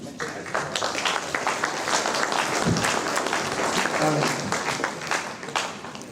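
Audience applause at a Knights of the Southern Cross dinner event honouring Tony Abbott, a dense, steady wash of many hands clapping throughout, fairly loud and continuous, with a few voices and cheers mixed in.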